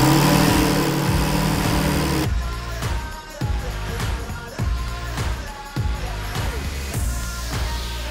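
A BMW X5 engine idles steadily at around 1500 RPM after repair work on its timing chain and head gasket. The hum holds at a steady close level, and a few soft knocks and clicks fall at regular intervals.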